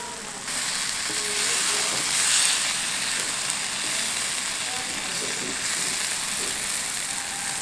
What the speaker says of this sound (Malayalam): കുറച്ച് കറിവേപ്പിലയും കൂടെ ഇട്ട് കൊടുക്കാം.